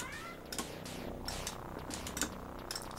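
A cat purrs steadily as the cat buddy power-up in an Atari Jaguar video game, under dense busy game music and sound effects.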